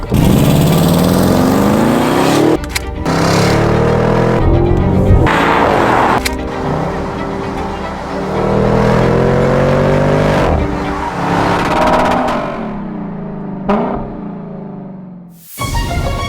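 Twin-turbo 4-liter V8 of a 2022 Audi RSQ8 revs loud and close, with rising and falling engine sweeps that surge, drop off briefly, then climb again over about sixteen seconds before cutting to near silence.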